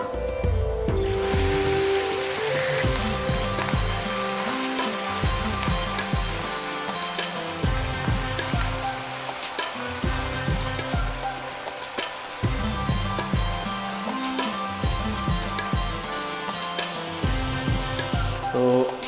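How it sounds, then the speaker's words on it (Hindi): Masala-coated whole small fish frying in hot, smoking oil in a kadai, a loud steady sizzle throughout with intermittent clattering and stirring knocks. "अब इसमें जो है तो मछली जो है डाल के फ्राई किया जाएगा।"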